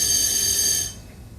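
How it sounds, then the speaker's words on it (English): A fire alarm sounds during a test, a loud, steady, high-pitched electronic tone that holds for most of a second and then cuts off, leaving quiet room tone. "That's a fire alarm."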